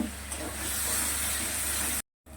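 Masala being sautéed in a pan for aloo dum, a steady loud frying hiss that runs unbroken before cutting out briefly near the end.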